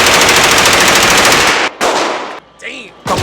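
SCAR rifle firing at a gun range, a rapid, loud burst of sharp cracking shots lasting over a second, then brief gaps with a short follow-up burst, close and dominant.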